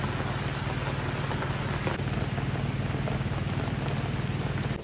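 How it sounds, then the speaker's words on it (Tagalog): Heavy rain pouring down steadily in Baler, Aurora, a dense continuous hiss with a low engine-like hum underneath. "bumuhos na naman yung ulan"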